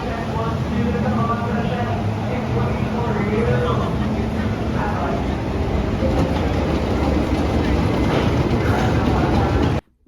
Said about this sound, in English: I have a video that I really love of the train coming out of the station.